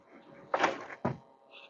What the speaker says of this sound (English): And these are soft closing drawers.